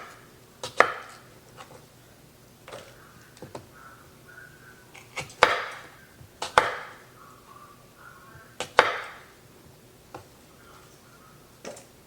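A knife chops green tomatoes on a cutting board in irregular sharp taps, several clustered strokes separated by pauses, close and clear with no talking.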